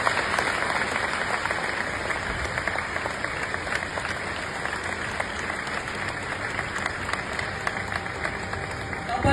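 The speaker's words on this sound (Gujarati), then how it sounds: "એ બદલ પણ આપણે એમનો તાળીઓનો નાખી આપીએ." Audience applauding saints at a religious gathering, a steady sustained patter of many hands clapping at moderate distance throughout.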